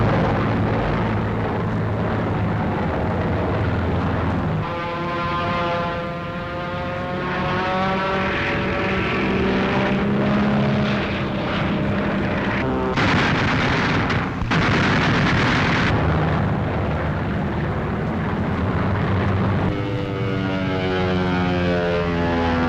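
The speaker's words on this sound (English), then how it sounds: "The bandits are sighted and begin their slashing attacks through the bomber formations, and the Thunderbolts are on top of the attackers." Loud continuous roar of P-47 Thunderbolt fighter engines in 1943 air combat against a bomber formation, with droning propeller aircraft tones rising and falling in pitch, bursts of gunfire-like crackle and a dense, unbroken wash of noise.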